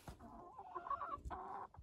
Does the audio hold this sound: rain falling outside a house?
no